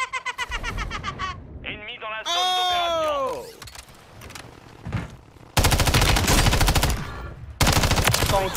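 Video-game gunfire comes in two loud, rapid automatic bursts, each a dense stream of closely spaced shots, after a stretch of tonal game sounds and a voice speaking.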